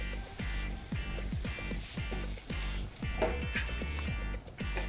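Lauki paplet, a bottle-gourd fritter, frying in hot oil in a covered pan: a steady close sizzle with dense popping and crackling spatters, like rain on a surface, and no talk.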